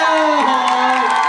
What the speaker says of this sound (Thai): ครูพีครับปรบมือเด